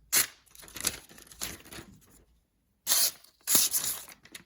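A very sharp knife, freshly honed on an ultra fine ceramic benchstone, slices through very thin phone book paper in quick, close, crisp cuts, three in a row, then a pause and two more.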